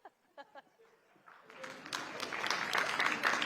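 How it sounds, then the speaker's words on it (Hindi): Audience applause and clapping at a Haryana election event, starting after a few brief voice fragments and swelling into a sustained, dense burst that grows louder toward the end. "ये तालियां बता रही हैं"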